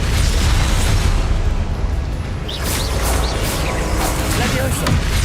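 Depulso force spell blasting during Hogwarts Legacy gameplay, a loud sustained burst with layered whooshing impacts and swelling bursts that stays dense throughout, with no talking.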